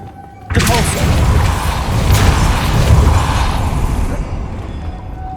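Depulso, the force-push spell in Hogwarts Legacy, hits with a sudden loud impact after a quiet hum, then a sustained crashing, rumbling wash of debris lasting several seconds before cutting off.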